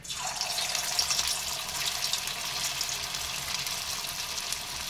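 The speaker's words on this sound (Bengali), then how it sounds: "সেটা আস্তে আস্তে এবার আমি তেলেতে দিয়ে দিচ্ছি গোল গোল করে" Pumpkin-leaf fritter batter is dropped in rounds into hot oil and fries with a steady, dense sizzle that stays close and even throughout, with no talking.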